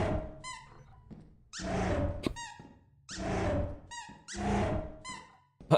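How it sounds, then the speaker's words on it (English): A Thumper plushie squeak toy in the Lethal Company video game lets out a high squeak, then a long, loud rasping growl. The squeak-and-growl pattern repeats three times in a row, with short pauses between. "I'm just imagining what my dog would do if he had like this sort of squeak toy and it just growled at him"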